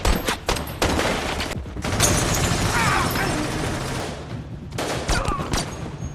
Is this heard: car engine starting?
no